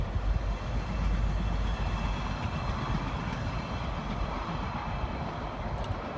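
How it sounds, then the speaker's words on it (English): A train rolls past a ball field with a steady, loud low rumble and broadband rush that holds throughout and eases only slightly toward the end, with no voices. "Give you a train going by once you see it."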